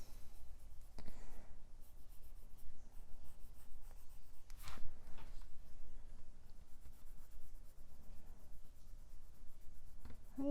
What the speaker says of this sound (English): using the side of the pencil to kind of put that dark blue in there